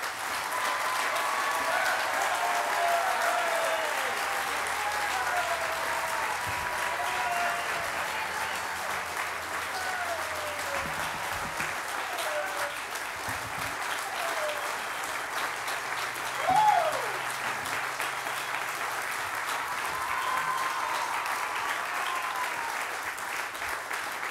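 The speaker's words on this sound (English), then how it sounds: "let's give a big round of applause to our head track coach, Kelly Sullivan." Steady applause from an audience at a track and field center ribbon cutting ceremony fills the whole stretch, continuous and even with no pauses.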